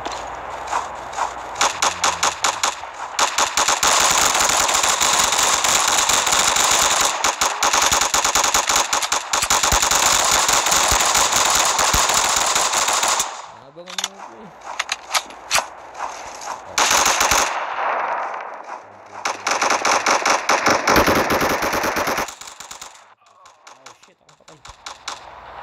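Rapid bursts of gunfire from the Counter Attack video game on the Snow Yard map in a deathmatch, sounding as dense, sustained volleys with brief pauses and a short quiet gap midway.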